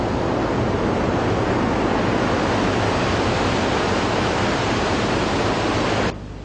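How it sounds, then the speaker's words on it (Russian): A powerful waterfall dropping about 30 metres in a mountain canyon on the Iskander-Darya near Iskanderkul, Tajikistan, roars as a continuous loud rush of water, steady and unbroken before dropping off abruptly at the end. "Тонны воды низвергаются с 30-метровой высоты, поднимая вокруг столбы водяной пыли"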